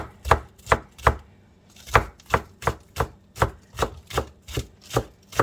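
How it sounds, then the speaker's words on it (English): A knife chops through green onions (scallions) on a cutting board for dehydrating, a dozen crisp, evenly paced thuds up close with no talking. "I will just go through here and start cutting these down"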